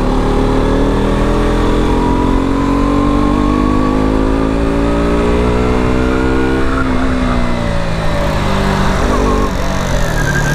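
A loud KTM RC 125 sport motorcycle engine accelerates nearby, its pitch climbing steadily before easing off and rising again.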